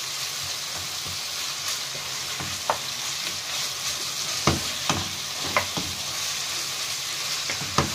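Sliced onion rings sautéing in a pan, a continuous sizzle broken by scattered scraping stirs and light clicks of a utensil against the pan.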